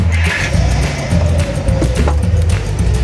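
A 1956 Chrysler 300i V8 catching and firing up, a loud close engine rumble settling into a steady idle with a rising whine partway through.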